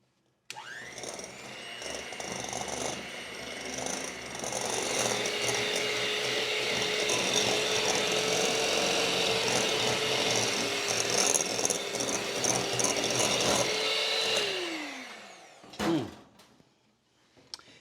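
An electric stand mixer creams 1 1/2 cups of sugar with butter, a steady loud whirring drone that holds for about fourteen seconds before winding down, followed by a brief clatter.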